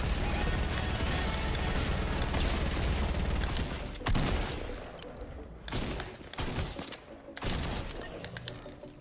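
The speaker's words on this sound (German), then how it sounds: "Vor uns, vor mir sind Schüsse." Dense gunfire and explosive bursts in an online shooter video game, loud and continuous at first, then breaking into separate heavy shots and rattling volleys.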